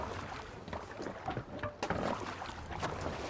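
Oars working a longship in the Viking-era game Assassin's Creed Valhalla, with splashing water, creaking wood and wind rushing past, heard close and steady.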